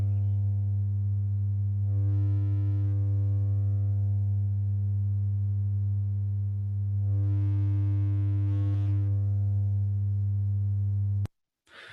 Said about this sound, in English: you heard the tone, and the more I turned it up, it started to distort